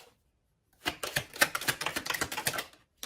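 Tarot cards being handled and drawn from a deck, a quick flurry of crisp papery slaps and flicks following a brief silence, close and fairly soft.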